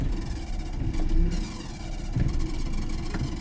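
A car engine catches and runs again after stalling when the clutch was released too abruptly during a driving lesson, a steady mid-pitched hum close by with slight revving surges and no talk over it.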